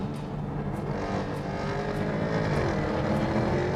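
A Jaguar F-type V8S engine hums steadily while cruising with the top down, a continuous low, droning note with faint rhythmic swells and no voices.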